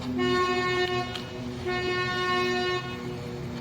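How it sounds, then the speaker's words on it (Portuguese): A boat sounds its horn near a bridge, two long, loud, tonal blasts separated by a short gap, ringing out clearly against faint background noise. "Eles sempre buzinando, dão sempre umas 2 buzinas assim, para não chocar, né, com outro barco"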